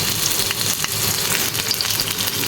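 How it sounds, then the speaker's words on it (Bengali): Pointed gourd and onion frying in a little oil in a pan, a loud continuous close-up sizzle with crackling pops throughout. "এখন একটু হালকা হালকা ভাজবো, বেশি ভালোভাবে ভাজবো না।"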